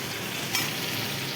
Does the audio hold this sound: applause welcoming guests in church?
no